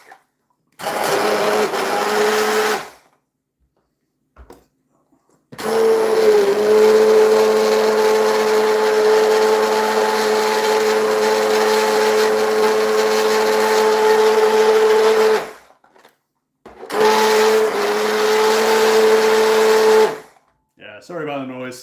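A kitchen blender blitzes food during meal prep in loud whirring bursts: a short run, a long sustained stretch of about ten seconds, then another short burst, separated by quiet pauses.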